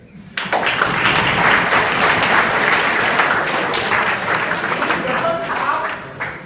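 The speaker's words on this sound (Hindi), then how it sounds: "ताली तो बजा रहा है" Loud audience applause, a dense steady roar of many hands clapping that starts abruptly and carries on for several seconds.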